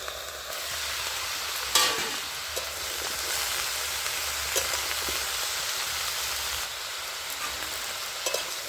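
Vegetables made with cauliflower stalks frying in a pan, a continuous hiss of sizzling oil with occasional soft spoon knocks and stirring scrapes, steady and close, no voices.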